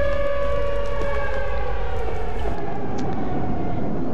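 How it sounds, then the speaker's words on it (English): Tornado warning sirens wail in a Minecraft tornado mod, loud and sustained with a steady tone that shifts slightly partway through over a low rumbling backdrop. "And you hear the sirens going off."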